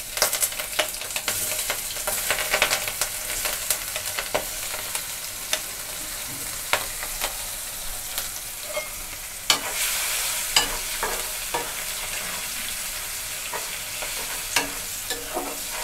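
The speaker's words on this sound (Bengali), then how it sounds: "পেঁয়াজটা একটু ভাজা ভাজা করে নিয়েছি" Chopped onions frying in oil with bay leaves, cardamom, cinnamon and cloves, a steady close sizzle broken by scraping stirs and sharp spatters throughout.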